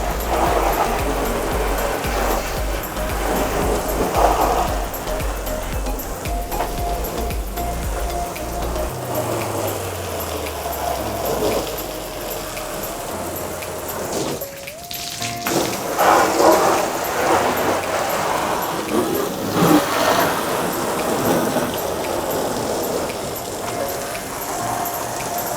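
A continuous broad hiss of water sprayed across the lower body of a car during a wash, loud and close, rising and falling as the spray moves over the panels.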